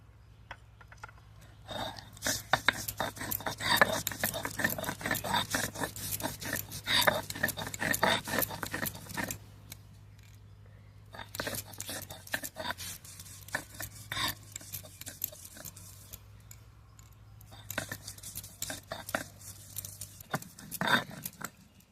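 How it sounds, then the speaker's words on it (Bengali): Ginger pounded into a paste on a stone, dense bursts of scraping and grinding strokes in repeated spells with short pauses between, close and fairly loud, over a steady low hum. "এবার আদা বেটে নেব।"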